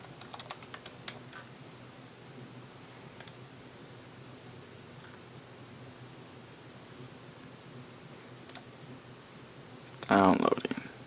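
Keys clack faintly on a computer keyboard in scattered clicks over a low hiss, and a brief loud burst of noise comes near the end.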